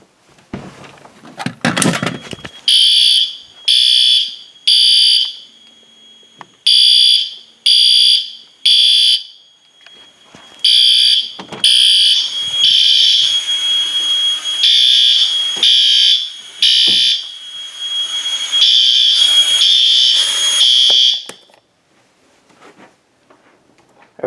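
A fire alarm system set off from a Firelite BG12L pull station blares in loud, close, rhythmic bursts of horn tone. A clunk comes first, then the pulses run together into a longer continuous stretch before cutting off, leaving near silence.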